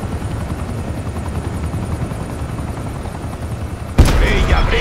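Military helicopter in Call of Duty Black Ops 4, a loud steady rotor thrum droning throughout, joined near the end by a sharp burst of gunfire or explosion over continued rotor noise.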